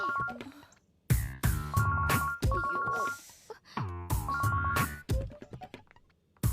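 A mobile phone rings with a melodic ringtone, a loud, close run of repeating musical phrases with bright tonal notes and short pauses between them, and no talking over it.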